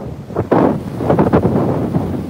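Strong wind buffets the microphone in loud, rumbling gusts on a Moon 60 power catamaran, with water sloshing underneath and no voices.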